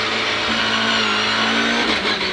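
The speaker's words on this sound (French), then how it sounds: "c'est un moteur qui est expressif mais dans les tours" A BMW M3 rally car's 2-litre four-cylinder engine revs hard and close, a loud sustained rasping drone with rising pitch that holds steady before easing off at the end.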